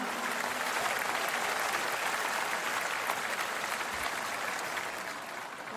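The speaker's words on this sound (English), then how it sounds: "Give yourselves a round of applause right now." Stadium crowd applauding at a Chicago White Sox World Series reunion ceremony, a broad, steady roar of clapping heard from a distance that fades slightly toward the end.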